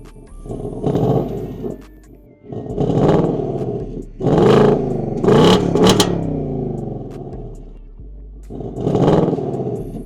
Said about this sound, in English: And then you can rev the from the key fob.